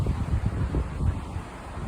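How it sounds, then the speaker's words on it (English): Wind gusts outdoors in Kissimmee, Florida, after Hurricane Ian, a low rumbling buffet on the microphone with uneven surges over a couple of seconds, no talking. "It's a little windy out here, and the temperature has dropped."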